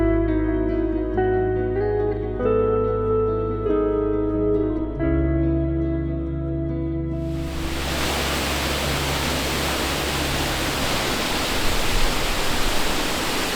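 On the Watkins path on Snowdon, a waterfall's loud, steady roar cuts in about halfway and drowns everything, following a stretch of tonal music.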